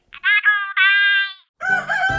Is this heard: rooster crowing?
yes